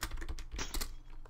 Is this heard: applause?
no